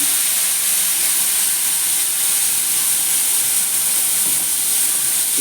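A paste of black and white mustard seeds with poppy seeds sizzles in hot oil, a loud, steady, continuous hiss that runs without pause and with no voices.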